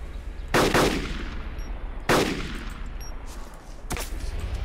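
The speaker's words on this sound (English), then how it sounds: "Someone else is shooting." Three sharp, distant-sounding gunshots from another player in the DayZ mod, spaced a second or two apart, over a steady low background hum.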